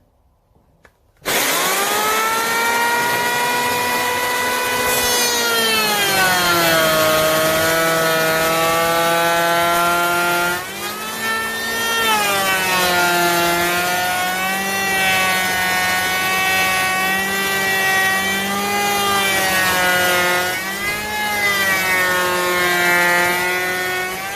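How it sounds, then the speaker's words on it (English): A loud power sander drones continuously on a wooden farmhouse dining table, its pitch dipping and rising as pressure changes, close and unbroken for the whole stretch. "busy sanding the table for me down"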